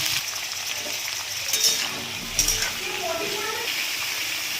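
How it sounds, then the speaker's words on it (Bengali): Cumin seeds and bay leaf sizzle in hot oil with a steady, close crackling hiss, a couple of brief clatters rising above it, while a person talks over the frying. "তেলটা গরম হয়ে গেছে, এই তেলে আমি সাদা জিরে ফোড়নে দিয়ে দিচ্ছি আর তেজপাতা।"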